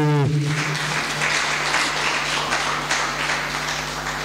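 A church congregation bursts into applause to acclaim God, a full, steady roar of many hands clapping that sustains loudly after a brief spoken tone at the start.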